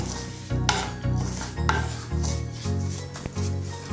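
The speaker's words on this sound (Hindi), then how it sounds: "सूजी तो हमारी भुनी हुई है बहुत अच्छे तरीके से तो हमें बस इसे मिक्स करना है" Roasted semolina (sooji) is stirred in a pan, with steady back-and-forth scraping strokes repeating about every half second, close and fairly loud.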